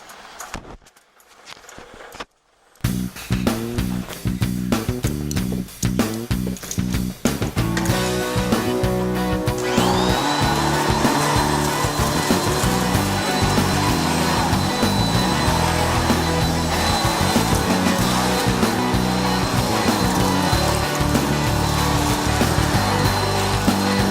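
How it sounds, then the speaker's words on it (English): A vacuum cleaner sucks up a mess indoors, starting after a few bumps and rattles and then running as a loud, continuous close roar with shifting tone. "So let's go take our vacuum and let's go vacuum up that mess"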